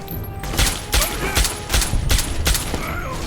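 Video game gunfire rings out in six or so sharp, loud bursts, evenly spaced over about three seconds, each one a short rattling volley.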